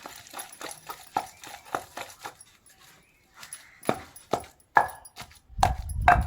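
Onion being pounded coarsely in a stone mortar for chutney, a run of irregular hollow thuds and knocks, close and fairly loud, with a brief pause midway and heavier, more rapid strikes toward the end.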